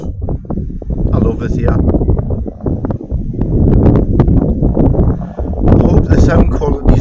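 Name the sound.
wind blowing on a clifftop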